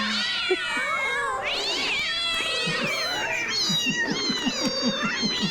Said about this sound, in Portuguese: Você reparou na chegada que tem um monte de gatinho aqui na TV, né?